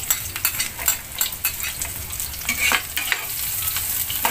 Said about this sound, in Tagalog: Sa isang mainit na mantika, igisa natin ang bawang at sibuyas.